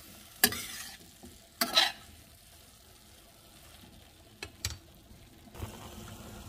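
Tomatoes and fried ingredients for a chutney stewing in a pan, with a few loud bursts of stirring and sizzling over a quiet simmer.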